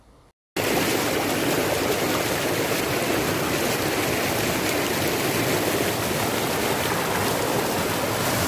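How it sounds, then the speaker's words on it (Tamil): Waterfall at Devadanam Sastha temple, water pouring steadily and loudly after a brief quiet start, a dense unbroken roar close by with no voices. "இது இன்னொரு ஃபால்ஸு"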